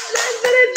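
A short, close burst of hand clapping during a livestream, lasting under a second, fairly loud and with no voices over it.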